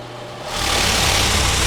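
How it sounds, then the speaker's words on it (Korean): Electric pressure washer motor starting up when the gun is triggered, a steady buzzing hum that swells after half a second and keeps running loud and close, alone. "저희가 건이랑 조립을 하고 건을 쏘면 모터가 돌고요"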